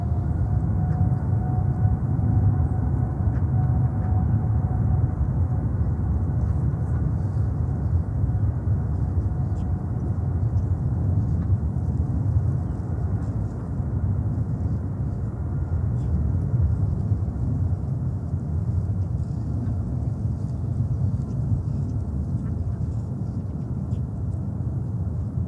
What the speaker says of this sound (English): Eva Cargo, take off.